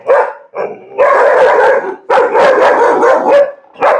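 Dogs barking and yelping near a pyramid-themed park, several loud, close bursts in irregular rhythm, some drawn out almost into howls, with no speech.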